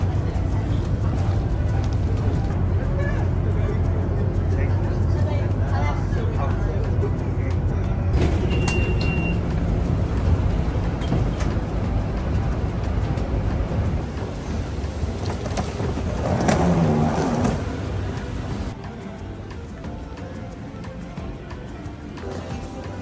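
A steady low engine drone and road rumble fill the cabin of an airport shuttle bus during a short ride, with faint voices and a brief mechanical hiss partway through.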